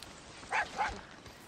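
A dog in the video game Far Cry 6 gives two short, sharp barks in quick succession, moderately close against a quiet background.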